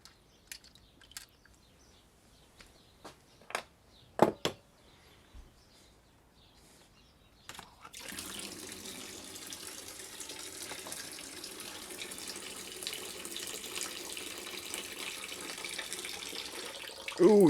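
Coolant flushed from a motorcycle radiator starts after a quiet stretch of scattered clicks and knocks, then pours out in a steady splashing, gushing stream that continues to the end.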